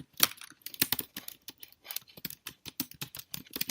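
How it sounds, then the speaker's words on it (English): Rapid, irregular clicking of fingers typing on a computer keyboard, close and fairly quiet, with keystrokes tumbling in quick bursts and no talking. "that's me typing to them."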